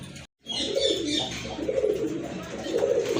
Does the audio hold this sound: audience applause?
no